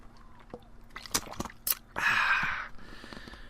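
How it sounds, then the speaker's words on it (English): Cold water is gulped from a water bottle after a workout, in a podcast setting: close swallows and small sloshes, a hiss of liquid mid-way, and a few clicks. "You'll probably be able to hear me drinking."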